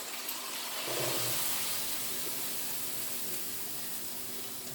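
Hot cooking oil drains from a pan of browned ground beef for picadillo, a soft continuous rush of trickling liquid at moderate closeness without speech.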